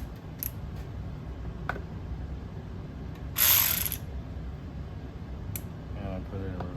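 Removing Torx screws during a Volkswagen Tiguan engine air filter replacement: a ratchet drives a T25 bit on an extension with faint clicking, then a brief loud whirring burst, then a few scattered ticks, all close, while someone talks.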